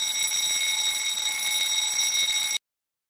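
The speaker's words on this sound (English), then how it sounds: "The alarm bell will sound." An electric alarm bell rings continuously and loudly as a bimetallic strip in a heat-triggered fire alarm touches its contact screw, a steady bright ring for about two and a half seconds before stopping abruptly.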